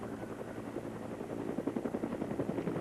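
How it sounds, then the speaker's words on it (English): A helicopter drones steadily over Myrtle Beach after Hurricane Hugo in 1989, its rotor thumping growing louder and more pronounced as it passes nearby. "There's another helicopter passing by."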